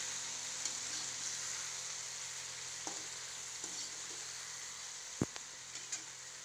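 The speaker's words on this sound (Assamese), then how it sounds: "এতিয়া মই এয়া আলুখিনি দি ল'লোঁ। আৰু অলপ ভাজি ল'ম।" Potatoes fry in a pan with a steady, quiet sizzle, broken by a few soft clicks and taps from stirring.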